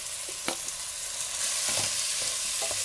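Drained rice being stirred in a pan for garlic rice, with scraping, shuffling spoon strokes over a steady background sizzle; no talking.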